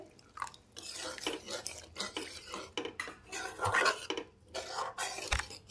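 Water poured off a spatula into spiced eggplant curry, then stirring with repeated soft scrapes and clinks against the pan, fairly quiet and close, with no talking.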